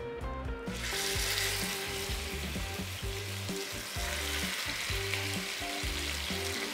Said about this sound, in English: That nice sizzle.